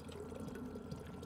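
Steady running water from a water cooler in the sci-fi video game Prey, a continuous trickling flow held at an even level for the whole moment, close and moderately quiet with no talking over it.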